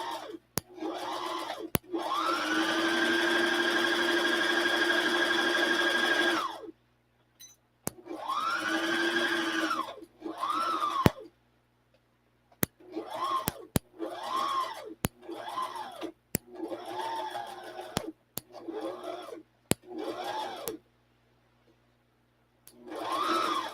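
A sewing machine stitches fabric in bursts: one long steady whirring run, then a series of shorter starts and stops, close and clear with sharp clicks between runs and no talk.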